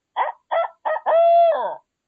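A voice imitates a crow's call as a turkey-hunting locator, four harsh caws in quick succession, the last one drawn out longer, close and loud with silence around them.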